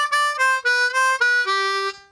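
A harmonica sounds its 4 draw note in a beginner blues jam, giving a series of clear, close reedy tones. The notes are separated by short breaths, and the last one is held longer.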